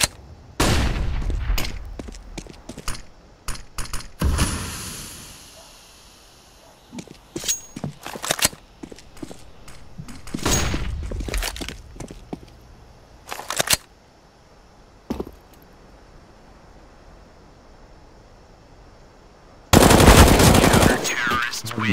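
Video game shooter match with repeated bursts of gunfire, single shots and rapid automatic fire spread throughout, ending in a dense loud barrage.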